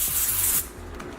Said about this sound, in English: Give it a fast spray.